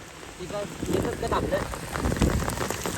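Rain falls heavily with a broad rushing hiss and some gusty wind, while a voice talks briefly over it.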